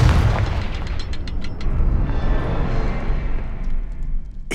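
The Confringo blasting spell bursts in Hogwarts Legacy as a loud, close boom that rolls into a long, rumbling decay. Several sharp crackles and pops ring out over the fading blast, with no talking.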